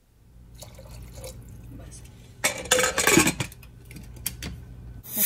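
A spoon stirs rajma kidney bean curry in a pot, with wet, sloshing scrapes and metallic clinks against the pot, loudest in a short burst in the middle, close up.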